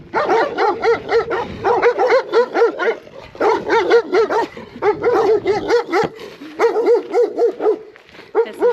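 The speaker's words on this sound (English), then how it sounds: "This is what it's like everywhere you go in Romania. Dogs barking constantly." Dogs bark repeatedly on a mountain hike in Romania, loud and close, in rapid bursts of yips and bow-wows separated by short pauses, with no talk over them.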